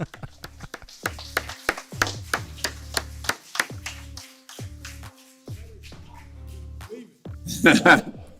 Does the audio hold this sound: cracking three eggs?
no